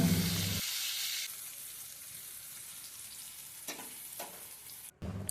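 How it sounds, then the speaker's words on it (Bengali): Slices of ash gourd fry in a pan with a soft, steady sizzle, close and low, after a brief louder burst at the start and a few faint stirring clinks. "এই যে চাল কুমড়ো ভাজতে বসিয়ে দিলাম।"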